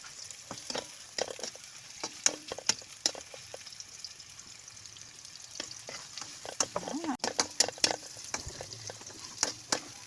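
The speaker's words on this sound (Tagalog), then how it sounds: "Hot dog. Prito ko muna." Hot dogs sizzle and crackle steadily in a hot pan, with scattered pops and occasional stirring scrapes, fairly quiet and close.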